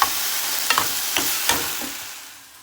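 Minced beef mixture frying over low heat in a pan with little oil, with a continuous soft sizzle broken by several clinks and scrapes of a spoon stirring, close by.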